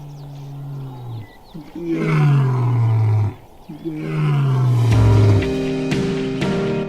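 Lions roaring in the Kruger grasslands: a series of deep, loud, close roars rising and falling in long bouts with brief pauses between, no voices.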